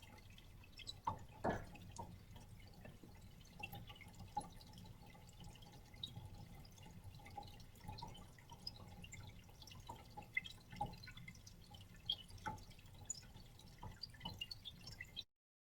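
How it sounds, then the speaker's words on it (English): Metal test sample being water quenched from below during a heat-treatment lab, faint steady water dripping and trickling with occasional louder drops, quiet and continuous. "You can see the sample is getting water quenched from below"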